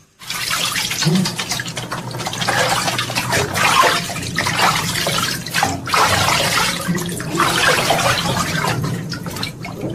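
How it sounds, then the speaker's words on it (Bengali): Water pumped up from a tubewell pours as a shower into a bathtub, a steady close splashing rush with drips that runs unbroken for the whole stretch. "নিচে টিউবওয়েল থেকে পাম্প করে এখানে ধারা স্নানের ব্যবস্থা"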